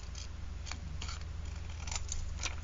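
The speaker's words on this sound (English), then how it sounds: "I cut it as small as I could, the top, the bottom, and the sides." Scissors snipping paper while trimming a printed design for a handmade vellum-and-button card, a handful of short, crisp cuts spaced irregularly over a steady low hum, no voices.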